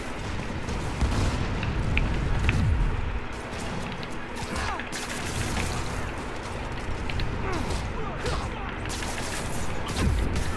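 Rapid bursts of gunfire crackle in the game Spider-Man on PS4, over a dense, noisy backdrop of booms and mechanical clatter, with brief voices mixed in.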